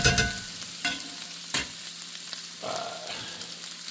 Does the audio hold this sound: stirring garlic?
yes